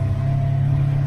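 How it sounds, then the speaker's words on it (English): Side-by-side UTV in low range on ATV trails, engine and compression braking giving a steady, close, loud whine with a constant droning hum beneath it, no talk. "My engine or compression braking whining on and off"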